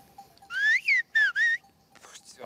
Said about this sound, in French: Dites juste français en sifflement.